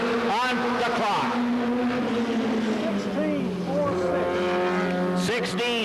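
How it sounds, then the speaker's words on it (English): A Pontiac stock car in the 1988 Goody's Dash series drones loudly through a qualifying lap at Anderson, South Carolina, its engine pitch rising and falling as it runs the track while an announcer talks over it. "Gary Wade Finley, car number 28 on the clock."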